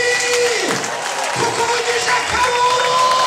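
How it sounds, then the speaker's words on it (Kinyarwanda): A church congregation applauds during a prayer service, a dense, loud wash of clapping with crowd noise and voices mixed through it. "Tugukomeye amashyi"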